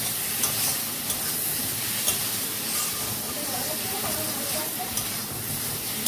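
Fish and potato curry frying and being stirred in a pan, a loud dense hissing sizzle running throughout with faint scrapes of a spatula, close up.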